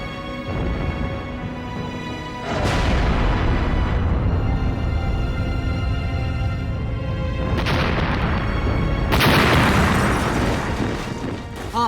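Bombs explode during the London Blitz, deep rumbling booms that swell and linger, with sharp blasts breaking in around the middle and end over a continuous roar.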